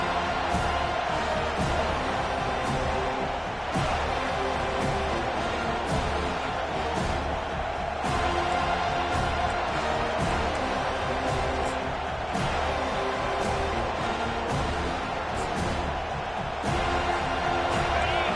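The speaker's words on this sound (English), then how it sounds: "Decibels rising as the crowd gets behind this defense on third down." Stadium crowd roar in the College Football 25 video game during a Penn State matchup, a steady dense wall of cheering and noise that swells on third down, loud and continuous throughout.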